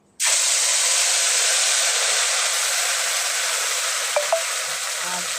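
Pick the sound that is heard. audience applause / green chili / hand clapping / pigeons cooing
green chili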